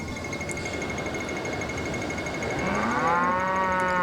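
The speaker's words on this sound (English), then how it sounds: "Why is it mooing?" Steady background ambience in a Roblox train game, then a drawn-out cow moo swells in near the end, loud and low with a wavering pitch.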